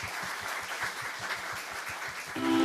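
An audience claps for the hosts at a science camp, a brief dense burst of applause at steady loudness, with a low hum swelling near the end.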